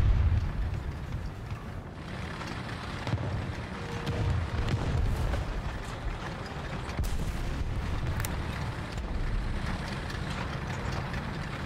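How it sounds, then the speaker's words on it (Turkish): Repeated heavy booms of cannon fire in War Thunder roll over a continuous rumble of battle noise, loud and close with no talking. "Toplar, gümbür, gümbür."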